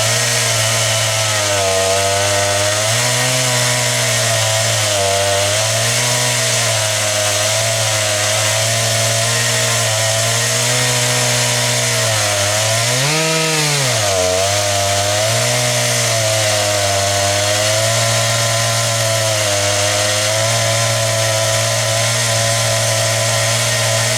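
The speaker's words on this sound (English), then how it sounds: "the tank on the chainsaw is full of gas, so we're ready to start making some lumber" A chainsaw cuts lengthwise down a big red cedar log to make lumber, its loud, close engine whine holding steady with small pitch dips as it bogs under load, running continuously throughout.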